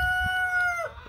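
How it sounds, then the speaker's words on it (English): A single Jersey Giant chicken call with steady tonal notes that slide downward at the end, close by, over low farmyard rumble. "that's one of the Jersey Giants clucking"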